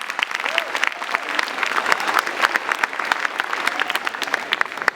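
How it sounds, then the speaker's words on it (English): Students in a high school Black History keynote audience applaud the principal and teachers, a steady, dense crackle of many hands clapping close by, with faint voices mixed in. "clap it up for them"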